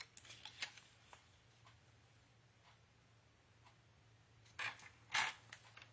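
Paper strips are scored at half-inch intervals on a scoreboard for a scrapbook bookmark: faint, quiet ticking and creaking, then two short, sharper scraping strokes near the end.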